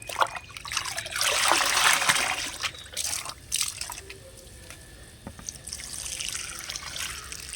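Liquid fertilizer poured from a container onto the soil around a parijatham plant, a soft close trickle and splash that swells and fades in a few pours, with no talking.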